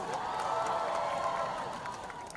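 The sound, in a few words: audience applause and cheering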